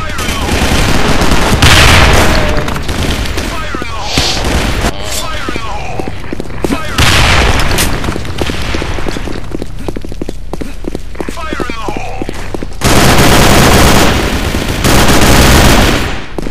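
Sudden Attack gunfire crackles as rapid automatic bursts and sharp single shots, near and loud, with a couple of heavier booming blasts late on, while voices talk over the fighting.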